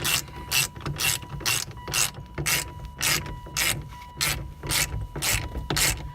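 A ratchet wrench tightens bolts on a 2001 Mitsubishi Mirage during a steering wheel job. Its clicking pawl is heard close up in a steady, repeated rhythm of quick ratcheting strokes.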